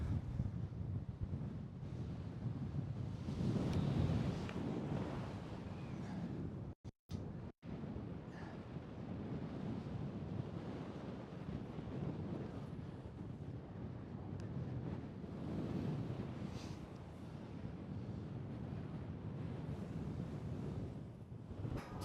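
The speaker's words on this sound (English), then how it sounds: "Here comes the wind." Steady gusting wind roars across an open hillside during a paragliding launch, buffeting the microphone with low rumbling noise that swells and eases throughout, with a couple of brief dropouts and no talking.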